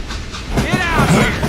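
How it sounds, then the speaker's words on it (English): A train from the Western shooter Call of Juarez: Gunslinger rumbles along its rails with a loud, close rolling roar and clatter, while a voice speaks over it. "It was then that Jesse detached the express car from the rest of the damn train"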